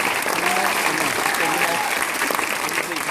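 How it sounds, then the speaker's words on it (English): A room full of people applauds continuously and loudly after a seminar speech, a thick wash of clapping with some crowd voices mixed in. "a big round of applause for every person in this room"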